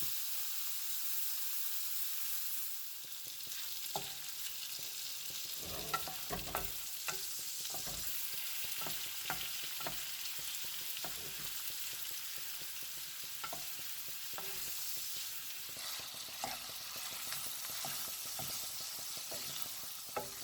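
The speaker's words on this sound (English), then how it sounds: "I'm going to add the 2 tablespoons of unsalted butter and basically coat and baste the steak bites for about a minute or so" Steak bites sizzle and fry in unsalted garlic butter in a pan, a steady close crackle with stirring and basting clatter and occasional sharp pops, no voices.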